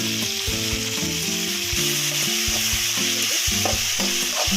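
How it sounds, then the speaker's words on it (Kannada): Chopped tomatoes hit hot oil in a pan of vegetable upma and sizzle loudly. A utensil stirs and scrapes in an uneven rhythm throughout, with no one speaking. "ಈಗ ನಾನು ಇದಕ್ಕೆ ಒಂದೆರಡು ದೊಡ್ಡ ಟೊಮೊಟನ ಹೆಚ್ಚಿಟ್ಕೊಂಡಿದ್ದೀನಿ ಅದನ್ನು ಸೇರಿಸ್ತಾ ಇದ್ದೀನಿ"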